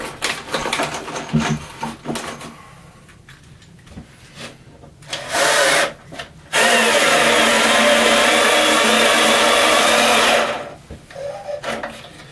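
A cordless drill with a nearly flat battery drives screws into scrap wood while a saw stand is built, whirring in short bursts and then one long steady run of about four seconds, with scraping and handling noises between.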